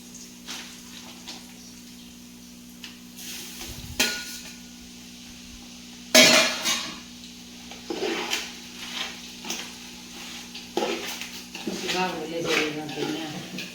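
Gunda pickle mixture stirred in a pot at a village home, a spoon scraping and clinking against the metal in irregular bursts, with a sharp clatter partway and people talking throughout.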